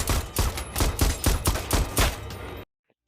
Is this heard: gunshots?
yes